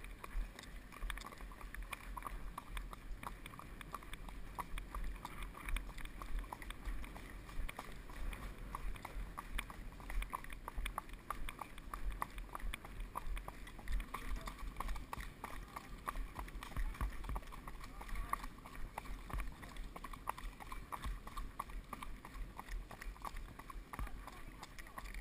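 Horse hooves clip-clopping at a steady walking rhythm, faint and ongoing, with low background rumble and occasional voices.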